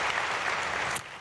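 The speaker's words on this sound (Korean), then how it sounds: "강성훈 목사님 오셨는데 우리 박수로 한번 받겠습니다" A church congregation at an early-morning prayer service claps in a brief, even burst of applause to welcome a visiting pastor, lasting about a second before tapering off.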